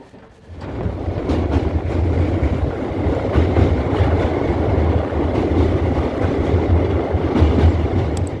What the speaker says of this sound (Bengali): আমাদের ট্রেন এই মুহূর্তে এসে পৌঁছেছিল কিন্তু এই বারাণসী জংশন স্টেশনে, যা এখন কিন্তু ছেড়ে যাচ্ছে